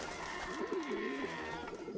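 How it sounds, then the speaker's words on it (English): Pigeons coo in the video game Jazzpunk, a soft warbling burble that rises and falls over about two seconds, steady and fairly close against a faint background hum. "the pigeons are just gonna take him away"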